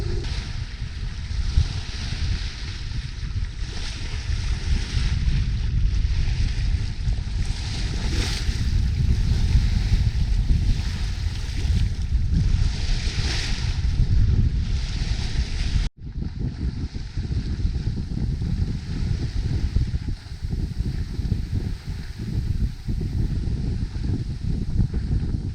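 An Island Packet 38 sailboat under sail in the San Juan Islands, with continuous rushing wind and waves washing past the hull, loud and steady with heavy wind buffeting, briefly cut at one point.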